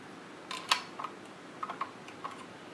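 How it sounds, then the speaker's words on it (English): Bolt being slid into a Sako A7 rifle: a few sharp metallic clicks and clacks, one louder snap near the start, then lighter ticks spaced apart, close and alone. "Go ahead and pop the bolt in for y'all."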